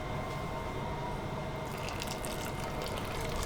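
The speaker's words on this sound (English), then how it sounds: "So you just top it up with boiling water" Boiling water poured steadily over couscous, a continuous close hiss and splash of liquid that brightens and grows more splashy toward the end, with no talking.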